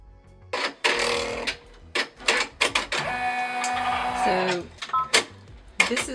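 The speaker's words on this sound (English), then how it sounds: "I'm just going to go ahead and stitch the final tack down" Embroidery machine stitching the final tack-down on an in-the-hoop doll suitcase, a steady mechanical whir with tonal motor hum and bursts of rapid needle chatter, close by with brief pauses.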